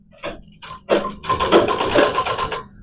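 A sewing machine stitching the back neckline of a blouse, starting with a few short bursts and then running in a fast, loud, continuous rattling stitch close by.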